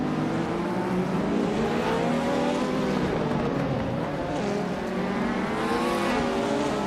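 Race cars in a racing video game, with a 1993 Lancia Delta HF Integrale on pole, roar off the start line, several engines revving and climbing in pitch together in a dense, loud, continuous drone.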